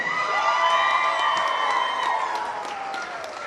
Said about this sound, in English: Can y'all make some noise for the 12U Green Squad?